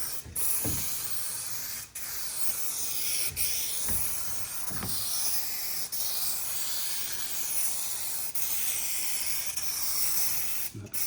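A 2K aerosol spray can applies paint to a car roof in long, steady hissing bursts, broken by brief pauses and faint clicks of the nozzle, close and continuous.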